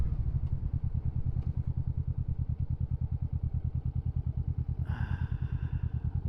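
A Kawasaki Vulcan 650 motorcycle being ridden on the road, its engine giving a rapid, steady low-pitched pulsing thrum up close, with a brief higher whine rising near the end and no voices.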